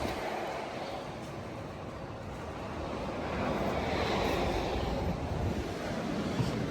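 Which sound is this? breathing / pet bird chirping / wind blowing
wind blowing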